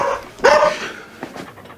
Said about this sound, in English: the lad's got himself a dog